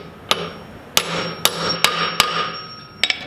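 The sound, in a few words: hammering a socket onto a Kia Stinger locking lug nut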